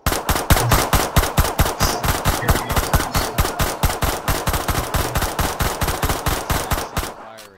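Rapid automatic gunfire from a video game, a long steady burst of evenly spaced loud shots lasting about seven seconds before cutting off, with no talking over it.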